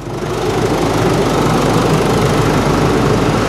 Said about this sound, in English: an engine sounds great, it really does